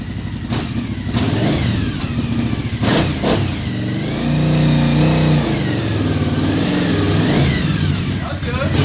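Engine of an SU3 reverse trike revving and accelerating in second gear, a loud, close mid-pitched drone that rises and falls steadily, with people talking over it.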